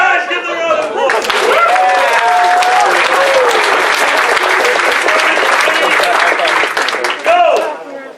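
A convention audience bursts into sustained, loud applause and cheering that lasts several seconds, with excited voices shouting over the clapping before it tapers off.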